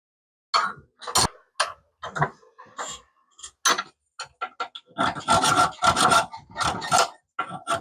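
A hand file rasping on a metal part, irregular short strokes at first, then faster, denser scraping passes, close and crisp with no talk.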